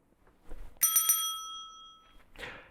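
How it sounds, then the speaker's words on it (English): A bicycle-style bell rung once to open a quiz show's lightning round, a bright metallic ding with a long ringing decay, heard loud and close in a quiet studio, with a faint voice stirring near the end. "And you know what the bell means?"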